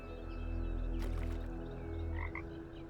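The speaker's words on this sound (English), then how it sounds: "Hey, glitch frog." A frog croaks in the Talos Principle 2 video game, a couple of short chirpy calls near the end over a steady low electronic hum and a soft splashy burst.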